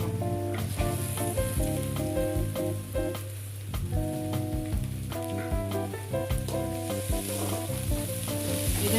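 Carrots and beans sizzle loudly in a pan with onions for idli upma, a dense and constant frying crackle with frequent scraping stirs across it, close and unbroken, with no voices.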